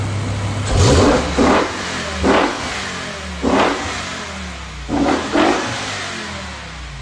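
A Toyota Supra Mk5 with velocity stacks and a carbon intake manifold revs hard in a series of about six sharp bursts, each swelling and falling back to a throaty idle close by.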